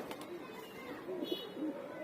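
Racing pigeons, including a red checker male, cooing softly in a loft, a few low warbling coos against quiet background, with faint voice nearby.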